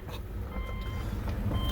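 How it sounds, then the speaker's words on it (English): A 2006 Subaru B9 Tribeca backs out of a home shop, its low engine rumble steady and close, with a faint repeating tone above it. "So I'm going to back this out of the way,"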